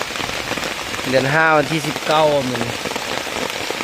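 Steady rain pours down in a forest, a dense hiss that stays constant throughout while a person speaks briefly over it in the middle.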